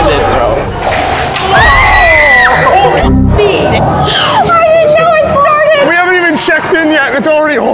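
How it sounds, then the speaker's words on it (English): Screams and excited shouts from a crowd of visitors at a haunted attraction, loud and close, with people talking and yelling throughout amid bangs and commotion. "You can already hear people screaming."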